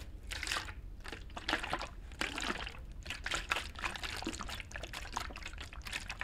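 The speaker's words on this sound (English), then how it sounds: "Just pour it all in there." Liquid is poured in, heard as a close, quiet series of trickling and splashing bursts that come and go irregularly, with no talk.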